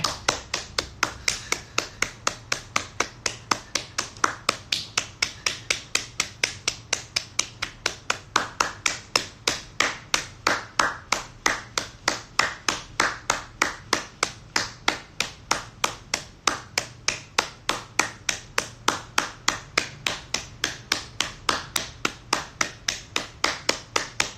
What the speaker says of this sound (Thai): สองทุ่มถึงสองทุ่มห้านาทีเราจะปรบมือเป็นกำลังใจให้กับทีมแพทย์แล้วก็พยาบาลครับผม